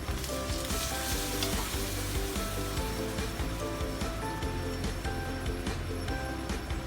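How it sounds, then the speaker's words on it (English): Steady, loud sizzling of Tuaran mee noodles stir-frying over high heat in a hot wok, with occasional clinks and scrapes, continuous throughout. "when you want to do stir frying, usually it's high heat all the way"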